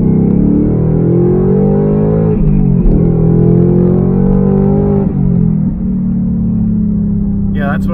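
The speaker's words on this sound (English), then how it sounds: "Give it a little rip through the gears here." A car engine revs hard and climbs through the gears with a manual shifter, each pull rising in pitch before dipping at the shift, loud and close with a steady rumble underneath.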